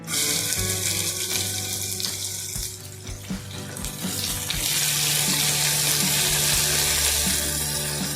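Onion sizzles loudly in hot oil alongside cashews in a pan, a dense continuous frying hiss that swells and stays strong to the end, with no voices.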